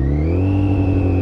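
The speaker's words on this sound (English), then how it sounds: "but if I rev it up" A Yamaha FZ1 motorcycle engine revs steadily with a strong, even tone held close and loud, no voices over it.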